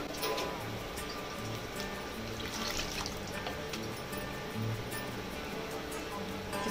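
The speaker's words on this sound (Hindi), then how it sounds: "2-3 पानी से अच्छी तरह से धो के ले लेंगे" Dried shrimp (sukat) being rinsed in water in a home kitchen, giving soft, steady trickling and sloshing at a constant low level throughout, without any voice.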